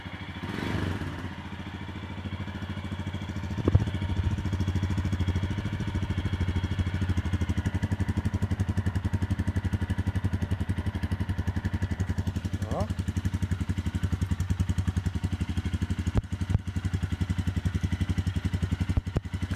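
A Royal Enfield Himalayan 411 motorcycle with its original stock exhaust idles steadily nearby, a continuous low, lumpy engine thrum with faint mechanical clatter and a few small knocks.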